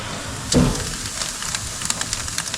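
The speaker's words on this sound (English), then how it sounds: "Here's the sizzle. I hope it's sizzling." Fish fried with salt, pepper and Old Bay hisses in a hot pan, a steady crackling sizzle with a brief louder burst near the start, close and unaccompanied by talk.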